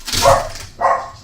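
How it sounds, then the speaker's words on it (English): A dog named Mackie barks twice indoors, two moderately loud, close barks about half a second apart, with no talking over them. "there goes Mackie barking"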